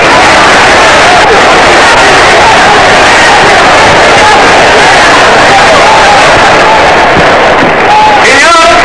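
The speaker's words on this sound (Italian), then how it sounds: "Applausi." Crowd applause and cheering from a 1940 Italian film about the siege of the Alcázar, heard as a loud, dense, continuous roar of clapping and shouting voices that fills the whole stretch.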